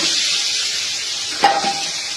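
Spice mixture poured into hot oil gives a steady bright hiss of frying and sizzling, with a single sharp clink of a utensil against the pan partway through, close and alone without talk.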